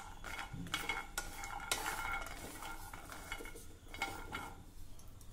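Cashews roasted in a pan alongside almonds with a faint sizzle, stirred with a spoon that scrapes and clinks against the metal in irregular strokes, quiet and close, without speech.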